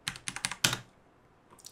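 Several quick keystrokes clatter on a computer keyboard while entering an IP address for remote access to a Raspberry Pi 4, a short burst of close taps ending in one firmer press, then near silence.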